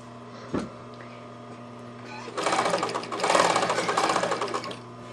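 A sewing machine stitches welt cord onto a pillow with a 1/2 inch seam allowance. After one soft knock it runs in a fast, whirring burst for about three seconds, close and moderately quiet, over a faint steady hum.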